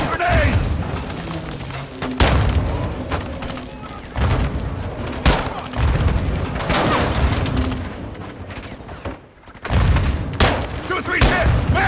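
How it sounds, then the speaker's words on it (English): Grenade explosions and gunfire in the video game Modern Warfare II: repeated loud booms and bursts of shots in a battle, with soldiers shouting over the combat. "They're launching grenades!"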